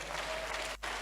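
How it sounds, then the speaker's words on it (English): Brief burst of audience clapping at a business mindset talk, steady and mid-level with a momentary dip near the end. "Please clap for him."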